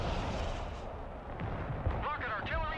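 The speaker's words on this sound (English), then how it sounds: "Rocket artillery standing by." Rocket artillery fire in the real-time strategy game Broken Arrow, a low rumbling volley of launches and booms rolling on under a battle din, with a voice chattering over the top.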